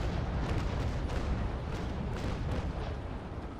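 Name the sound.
naval cannon fire in the Naval Action video game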